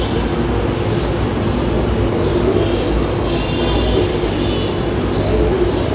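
Spiced prawns dropped into hot oil for a prawn curry, giving a loud, constant, close sizzle that holds steady without break for several seconds.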